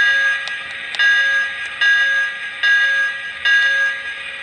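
Toy Lionel Hogwarts Express Lion Chief locomotive rings its electronic bell in a steady repeating clang, about one strike per second, close and clear over a faint background hum.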